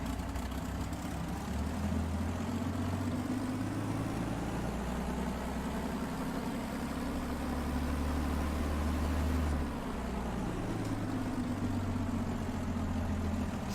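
P-51 Mustang piston engine running steadily while taxiing in X-Plane 11, a continuous loud droning rumble with a slight swell and fall in pitch throughout.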